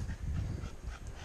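A dog pants steadily and close up while climbing a steep mountain trail through Skeleton Gorge on Table Mountain, giving quick rhythmic breaths with no talk.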